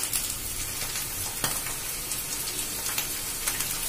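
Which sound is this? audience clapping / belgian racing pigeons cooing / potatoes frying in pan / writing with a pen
potatoes frying in pan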